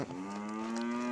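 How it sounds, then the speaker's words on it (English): A heifer lets out a single sustained low moo, loud and close, lasting about a second with a steady droning tone. "We need feeder heifers too."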